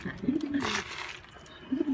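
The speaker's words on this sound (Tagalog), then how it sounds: "Masarap mag-alaga ng kalapate." Domestic pigeons cooing at close range in a pigeon loft, a few soft rolling coos in two short bursts with a quiet pause between.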